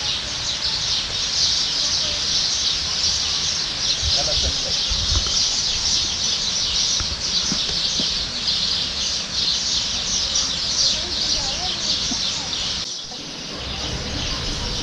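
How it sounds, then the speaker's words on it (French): Birds sing in a dense, continuous chorus at the crocodile park in Agadir, Morocco, chirping steadily at moderate loudness, with a brief dip and faint background activity near the end. "qu'on profite d'écouter les oiseaux"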